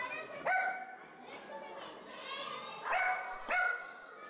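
A small dog trying to get into a house gives several sharp, high yips and barks in irregular bursts, fairly close and moderately loud, with quieter whimpering between them.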